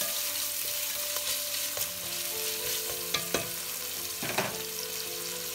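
Sliced sausages sizzle steadily in a lightly oiled pan, a dense close hiss with occasional sharper pops and stirring scrapes, no voices over it.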